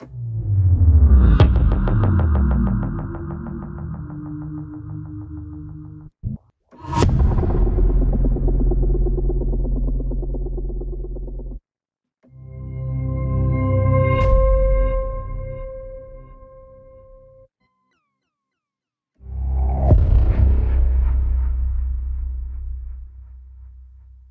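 Cinematic sound effects from the UVI Meteor riser and impact designer: four separate swelling, throbbing tonal sweeps with rumbling low end, each rising and fading, divided by short silences, loud and alone with no voice.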